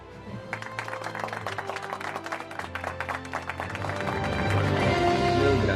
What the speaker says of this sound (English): Let's give a warm round of applause to Engineer Sean Villapando.